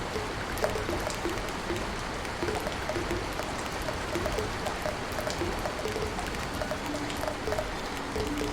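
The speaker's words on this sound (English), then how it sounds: "Yeah, yep, sure is gonna rain." Steady rain in the video game Genshin Impact, a dense wash of drops and patter on surfaces with scattered brighter pings, continuous and even throughout with no talking.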